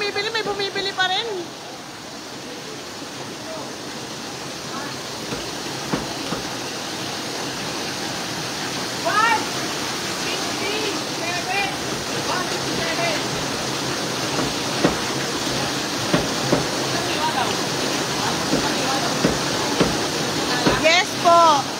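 Water pours down from higher ground in a steady, loud broadband roar that continues throughout, with occasional faint voices over the flow.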